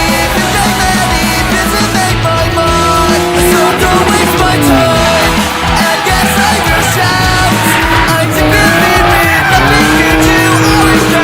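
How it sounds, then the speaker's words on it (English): Cars drift around a track, tires squealing in long wavering streaks over dense, loud engine roar, continuous throughout, with music and an occasional yell blended in. "So the boys been drifting for about 20 minutes so far"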